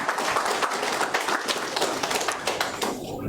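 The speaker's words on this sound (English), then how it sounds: "No, you're allowed to continue clapping." An audience applauds a speaker at a corporate digital solutions launch in Windhoek, with dense, steady clapping sustained throughout and a voice faintly audible beneath.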